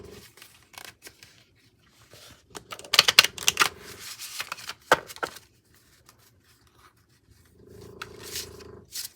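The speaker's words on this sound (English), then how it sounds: "Let's get them shuffled." A deck of art prompt cards is shuffled by hand in two bursts of rapid riffling and flicking, close and moderately loud, with quiet gaps between.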